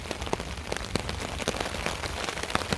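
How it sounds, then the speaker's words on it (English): Rain patters steadily on a surface at a dispersed campsite in Michigan, a dense, even hiss of drops with scattered louder taps, close and continuous with no talk. "I think the rain's stopping now."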